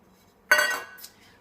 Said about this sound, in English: We will stir our ingredients.